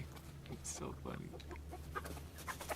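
Hens on a farm cluck softly in short, scattered bursts, faint and close, mixed with quiet background noise.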